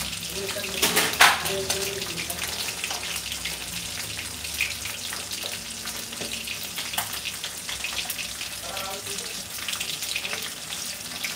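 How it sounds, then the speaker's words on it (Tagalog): Tilapia frying in a pan, a steady close sizzle and crackle with a sharper splatter burst early on, running continuously beneath faint kitchen noise. "kailangan lang natin i-fry ng 10 to 15 minutes"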